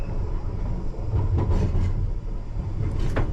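London Underground train on a night run between Acton Town and Rayners Lane, rumbling steadily over points with a few faint clicks under a loud continuous roar, no voices.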